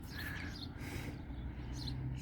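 High, thin black swallow chirps and twittering come in short bursts over a steady low background hum.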